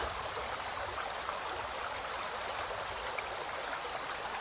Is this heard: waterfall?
yes